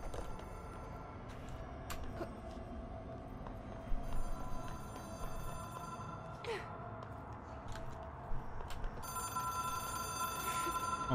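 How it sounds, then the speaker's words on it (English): A telephone rings inside the video game Control, a faint, repeated electronic bell over a low ambient hum, with a quiet breath or sigh heard among the tones. "Musimy odebrać ten telefon."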